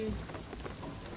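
Rain falls steadily in Shadow of the Tomb Raider, a soft diffuse hiss with faint low rumbling underneath, quiet and continuous throughout.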